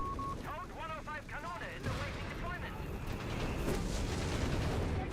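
Machine gun fire in Company of Heroes 3 battle, bursts of gunfire and distant explosions building under continuous commentary voices and in-game radio chatter.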